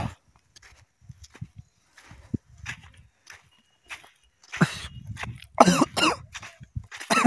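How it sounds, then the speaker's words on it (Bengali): A person coughs several times in short bursts, close to the microphone, building into a louder fit toward the end, set against a quiet rural village field with sparse small noises beforehand. "আমার কাশি পাই যাচ্ছে"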